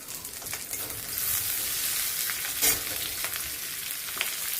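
Slit green chilies fry in a little hot oil with ginger for a bottle gourd curry, giving a steady close sizzle with occasional louder pops and stirring.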